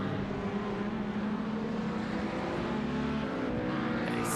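Sim race cars in an endurance race at Barber Motorsports Park roar continuously through traffic, a dense, steady engine drone of several cars close together with no pauses.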